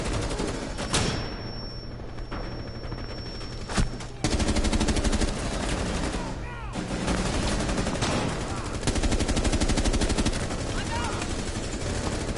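Sustained video-game gunfire in bursts of rapid shots, loud and close, continuing with dense automatic fire through the second half, with a voice talking over it.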